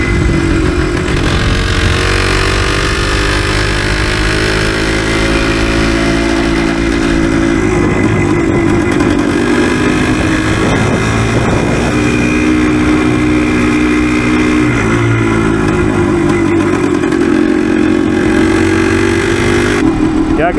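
A Yamaha DT360 motorcycle engine pulls under load in third gear, a loud, steady two-stroke drone with slight pitch swells and dips throughout, with voices talking over it.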